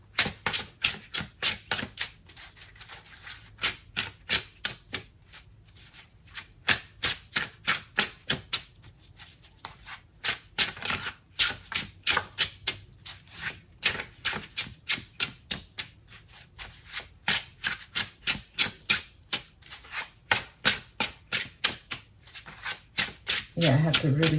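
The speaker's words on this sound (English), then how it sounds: "Yeah, I have to really shuffle this" A deck of tarot cards shuffled by hand in long runs of rapid riffling bursts with short pauses between, close and crisp, with a voice briefly at the end.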